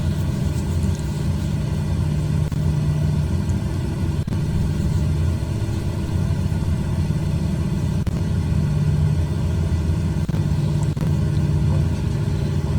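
A Lockheed Electra 10a taxiing in Microsoft Flight Simulator 2020, its engines holding a steady low rumble and drone throughout, with no talk over it.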